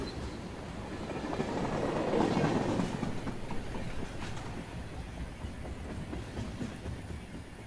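The Auto Train passenger train running from Sanford, Florida to Lorton, Virginia rolls past with a steady rumble and clickety-clack of wheels on rail. It swells to a peak midway, then holds at a continuous moderate level, fairly distant.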